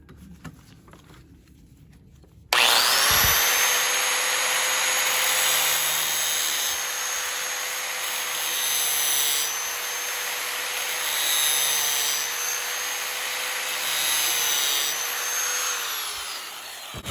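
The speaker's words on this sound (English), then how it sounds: "Let's go ahead and grind on it." A bench grinder spins up suddenly and holds a loud, steady whine with a broad hiss as the spine of a Mora Companion stainless knife is ground, with slight swells in the noise as the blade is worked against the wheel.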